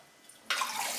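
Tap water suddenly gushes on after a quiet moment, pouring steadily as bulgur for tabbouleh is rinsed in a kitchen.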